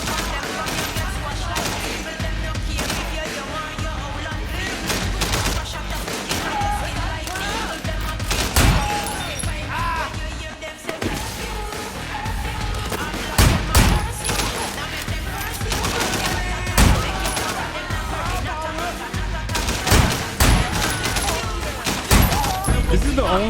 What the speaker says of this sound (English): At least this gun's got good aim.